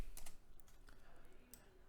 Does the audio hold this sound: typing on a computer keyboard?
yes